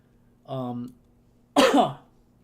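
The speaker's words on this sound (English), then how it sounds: "I don't want to keep coughing" Two short bursts from one person: a throat clear followed a second later by a sharp, louder cough, close to the microphone against a quiet room hum.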